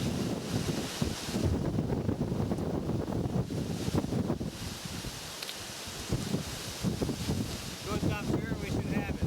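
Steady wind gusting across an open field in South Dakota, a continuous broadband roar buffeting the microphone with brief lulls and low rumbles throughout.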